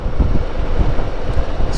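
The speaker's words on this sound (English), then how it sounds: "It's mildly windy." Loud, steady wind buffeting the microphone while riding on a mild winter morning, a continuous low rumbling roar with no voices.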